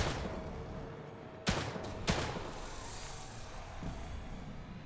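Two sharp gunshots ring out from a weapon in the survival horror game The Evil Within 2, punching through a dense, noisy ambient backdrop with a fainter thump near the end.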